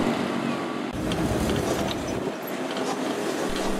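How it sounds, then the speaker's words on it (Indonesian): The Argo Parahyangan additional 39 passenger train runs along the line with a loud, continuous rolling rumble and faint clatter, heard up close without pause. "Selanjutnya, kereta api Argo Parayangan tambahan 39 ketika di perjalanan"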